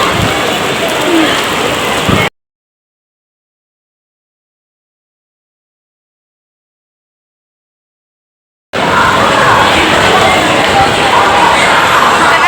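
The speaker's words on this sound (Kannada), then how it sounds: "ಗಾಳಿ ಮಳೆ ಬರ್ತದು ಮಳೆ ಗಾಳಿ" Steady wind-driven rain hissing across the whole scene, with a long stretch of silence in the middle before the downpour resumes at the same level.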